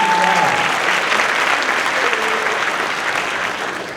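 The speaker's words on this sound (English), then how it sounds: "an equally warm round of applause for Catherine Marino" An audience at a high school winter concert applauds warmly. Loud, dense clapping fills the hall while a brief musical tone fades at the start, and the applause gradually tapers toward the end.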